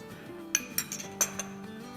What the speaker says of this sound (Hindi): मैजिक कुछ इस तरह से है कि हम इसमें डालेंगे 1 टेबलस्पून दूध और इसको हिलाएंगे